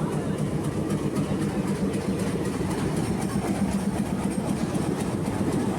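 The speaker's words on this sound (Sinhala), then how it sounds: "ඔන්න දැන් කෝච්චිය යනවා." A train pulls away along railway tracks, its steady rumble and rhythmic clickety-clack of the wagons running loud and unbroken throughout.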